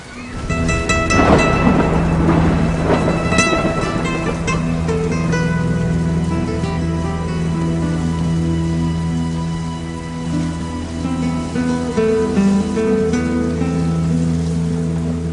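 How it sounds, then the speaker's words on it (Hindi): Heavy rain and rumbling thunder play loud and continuous throughout, layered with sustained musical tones underneath and no speech. "अरे बारिश आई है"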